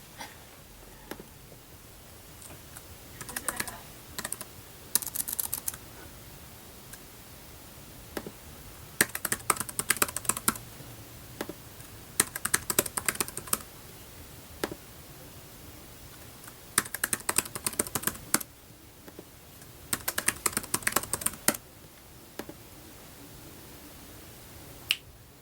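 Fingers type a new password on a MacBook keyboard during an SSD repair, with quick clusters of light, close key clicks in bursts separated by short pauses, no talking.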